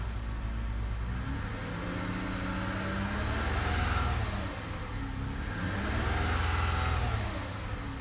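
A 2008 Lexus ES 350 V6 with a bad transmission idles just after its first start in a long while, steady and close. The engine pitch rises and falls gently twice as it settles, with no one talking.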